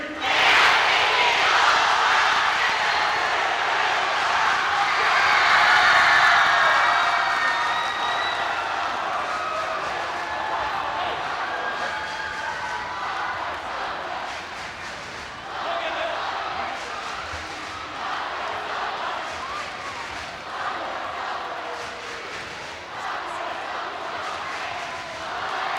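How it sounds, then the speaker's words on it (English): A high school crowd at a spring pep assembly shouts a spelled-out victory cheer in a big echoing gym, a loud massed roar at first that settles into sustained voices. "Same cheer, VICTORY."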